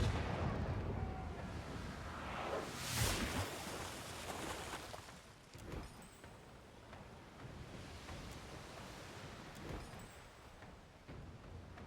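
Ship cannons in the naval combat of Pillars of Eternity II: Deadfire boom in a run of heavy, rumbling blasts, one big report near the start and several duller thuds following over a low wash of sea noise.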